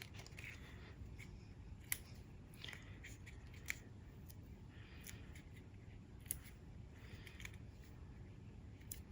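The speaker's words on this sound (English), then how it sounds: "And where are those paper snips?" Paper snips cutting paper while assembling Christmas trees: quiet, sparse snipping clicks, a few sharp cuts spaced over the stretch against a low background hum.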